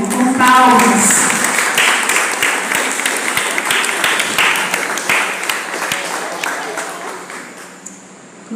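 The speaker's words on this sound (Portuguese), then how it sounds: "Vamos receber agora o irmão Arthur, que está representando a criança Ismael, com palmas." Church congregation applause during a children's Bible program, loud at first with some voices and calls mixed in, then gradually fading toward the end.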